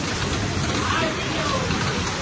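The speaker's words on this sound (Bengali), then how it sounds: "বৃষ্টিটা হচ্ছে" Heavy rain pours down during an evening thunderstorm, a dense, steady wash of close rain noise that holds evenly throughout.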